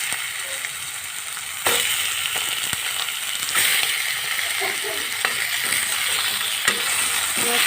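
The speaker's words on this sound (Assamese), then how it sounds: "তাৰপিছত ইয়াতে মই এতিয়া চিকেনখিনিও দি দিম।" Chicken pieces sizzle in a hot pan under a steady frying hiss, with a few sharp scraping and clattering stirs of a spoon, and no voices.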